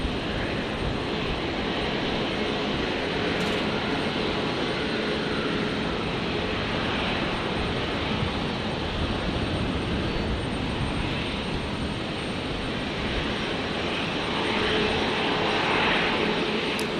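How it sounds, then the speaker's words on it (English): A Qantas Airbus A330-300 airliner at Brisbane Airport produces a continuous, broadband jet roar that holds steady and swells slightly toward the end, with no talk over it. "There is that Qantas 330-300 just popped into view at the top right there"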